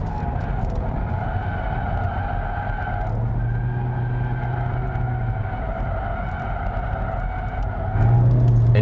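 A 2019 Kia Sportage The Bold R2.0 diesel 2WD takes a downhill corner in sport mode, with steady engine drone and tire noise that carry through the whole turn and swell slightly louder near the end.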